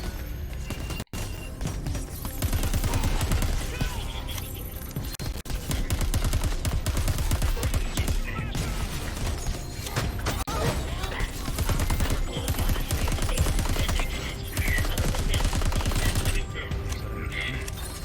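A plasma rifle fires in the sci-fi shooter Crackdown 3, rapid bursts of gunfire repeating through the scene among other game noise and mechanical clatter.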